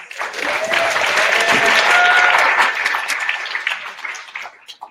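A conference audience at Victoria University in Toronto gives a full round of applause, loud continuous clapping that builds, holds through the middle, and gradually tapers off toward the end.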